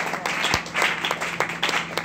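Congregation applauding during a French-language church sermon, a short burst of clapping with a few louder individual claps, moderately loud and heard on its own without speech.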